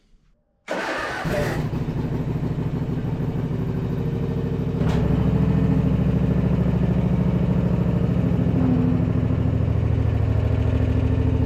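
A small engine on a broken-down zero turn mower fires up after a moment of silence and runs steadily and loudly close by. Its note firms up and grows a little louder partway through as the mower begins to drive.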